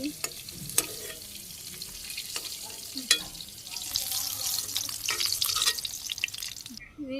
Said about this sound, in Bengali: তেলের মধ্যে এই তেজপাতা দিতেছি জিরে আর শুকনো লঙ্কা ফোড়ন দিলাম